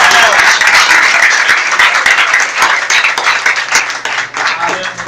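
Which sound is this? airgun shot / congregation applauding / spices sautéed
congregation applauding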